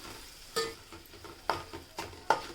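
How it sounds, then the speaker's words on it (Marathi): Turmeric being stirred into cooked onions in a pan, with four distinct scraping strokes spaced about half a second to a second apart over a soft, steady sizzle of frying. "हळदसुद्धा आपल्याला कांद्यामध्ये चांगली मिक्स करून घ्यायची आहे"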